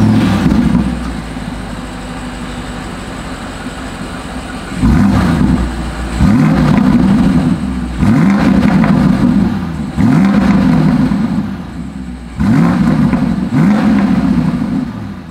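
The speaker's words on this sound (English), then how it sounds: "As always, here is that exhaust clip." A 2022 BMW X5 idles with a steady exhaust rumble, then is revved several times in sharp, loud bursts, each rising and falling back to idle, recorded close to the tailpipes with no talking.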